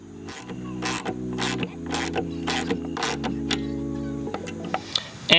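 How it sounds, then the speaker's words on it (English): A lock nut is tightened onto a bolt on a wooden go-kart, giving a series of sharp, close ratcheting clicks and metallic ticks in quick bursts, with no voices. "And now I can go ahead and tighten that lock nut."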